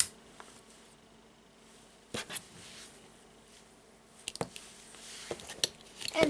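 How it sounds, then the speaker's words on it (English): Scissors snip the end of a braided yarn cord on a handmade surfer bracelet, several short crisp clicks spaced apart over quiet background, close and soft. "I will take the scissors and cut the end of the cord."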